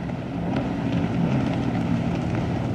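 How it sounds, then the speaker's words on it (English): A jet ski roars past on the water near a shore lined with oak trees, its motor a steady, fairly loud drone that holds throughout with no talking over it. "There goes a jet ski."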